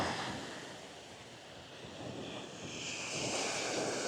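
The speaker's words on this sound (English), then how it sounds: "how in the world have we had such large waves?" Surf from large ocean waves breaking along a wide beach between Tamarijn and Bucuti resorts, a steady broadband wash that swells slightly toward the end, mixed with wind buffeting the microphone and no talk.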